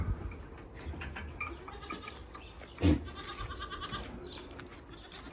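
Dairy goats in a pen bleat faintly, with a short louder call midway among soft rustling and scratching from nearby animals.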